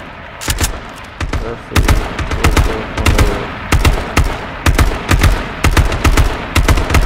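Video game gunfire crackles in repeated sharp bursts, loud and close, short volleys spaced irregularly with brief rapid shots between, while someone speaks briefly.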